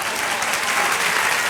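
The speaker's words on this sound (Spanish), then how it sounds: "Den un aplauso fuerte al Señor." A church congregation claps loudly during a sermon, a thick, continuous wall of applause from many hands that stays strong and even from start to finish.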